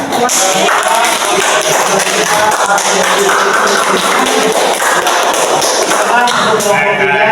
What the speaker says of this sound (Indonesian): Sekali lagi tepuk tangan untuk semuanya.